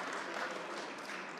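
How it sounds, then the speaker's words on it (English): Applause from an audience at a gun-violence announcement by the New York governor, a steady, soft wash of clapping throughout the brief moment. "That's worth an applause"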